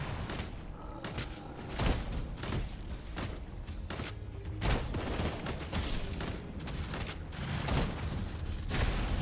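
Hunters firing down from above in the Shape of Dreams video game, a dense fusillade of sharp gunshot bursts in rapid irregular volleys, loud and continuous with brief gaps, alone without talk.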